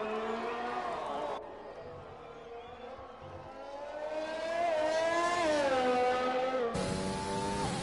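A Mercedes race car in a GP2 racing game on a lap at the Mexican Grand Prix, its engine a steady whining tone that climbs in pitch through the gears, drops abruptly at a shift, and holds fairly loud throughout.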